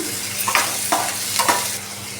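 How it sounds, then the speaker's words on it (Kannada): Onion fries in a pan with a steady, loud sizzle, while a spoon stirs through it in three or four brief scraping strokes. "ಈರುಳ್ಳಿ ಸ್ವಲ್ಪ ಕಲರ್ ಚೇಂಜ್ ಆಗೋವರೆಗೂ ಫ್ರೈ ಮಾಡ್ಕೊಳ್ಳೋಣ"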